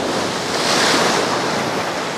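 Ocean waves crash on rocks at Nerja on the coast of Andalusia, Spain, a loud steady rushing surf mixed with wind buffeting the microphone, with no speech.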